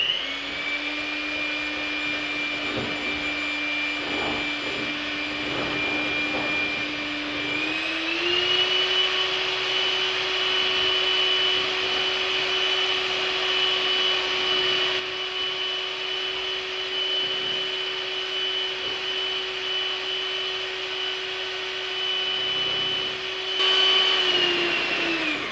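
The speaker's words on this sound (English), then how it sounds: "you're going to keep beating these until you see a light mixture" An electric hand mixer whips egg and egg whites at high speed for a flourless chocolate hazelnut cake, a steady loud whine that shifts up in pitch partway through and keeps running with no talking.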